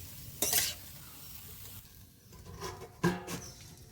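Kalmi (water spinach) greens frying in a pan give a soft, steady sizzle, broken by two sharp stirring clatters of a utensil against the pan, one early and one near the end, with no talking.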